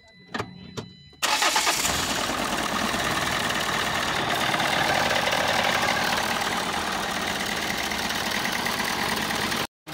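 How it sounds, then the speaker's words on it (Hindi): A Renault Duster engine, freshly serviced with an oil change, cranks after a few faint clicks and catches, then runs at a steady, close idle that holds without change to the end. "इंजन का साउंड सुन लीजिए ऑयल चेंज होने के बाद"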